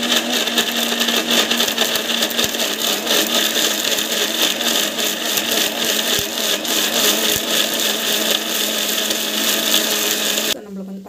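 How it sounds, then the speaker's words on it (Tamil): A kitchen mixer grinder whirs loudly and steadily while grinding ingredients for homemade dishwashing liquid, running nonstop for about ten seconds before shutting off abruptly. "மிக்சியில் போட்டு அரைச்சி"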